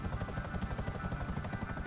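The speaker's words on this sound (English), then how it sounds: "The other helicopter's lower, but this one goes head first." A helicopter flies in a video game, its rotor thumping in a steady fast rhythm with a constant engine buzz, continuous and fairly loud with no talking.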